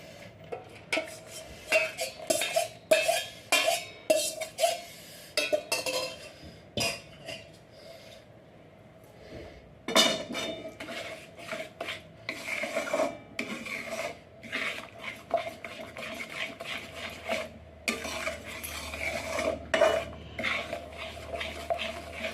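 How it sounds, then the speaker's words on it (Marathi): Sugar syrup mixed into roasted besan flour for mohanthal, a spoon scraping and rasping against a metal pan in repeated close strokes, with a pause and then continued stirring and clinks. "बेसनाच्या पिठात भाजलेल्या पिठात मी हा साखरेचा पाक टाकते"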